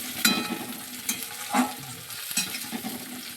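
Soft crackling sizzle of onions frying in oil, with occasional louder stirring scrapes and pops, steady and close.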